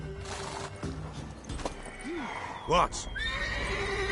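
A mare whinnies in The Witcher 3, a sharp rising neigh amid hoof clip-clop and game sounds, with a brief spoken word nearby.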